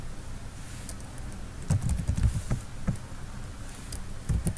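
Soft clicking of fingers typing on a computer keyboard during data entry, a short irregular flurry of light keystrokes close by, with faint background hum.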